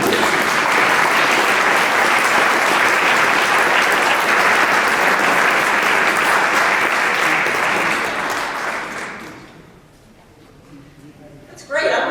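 An audience at a senior lobby day in a state capitol applauds the Attorney General with loud, dense clapping for about nine seconds, then it fades away.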